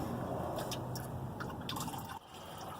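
Coolant drains from a Jeep next-gen V8 engine during a water pump job, a continuous trickling and splashing of liquid into a container, steady and fairly faint throughout.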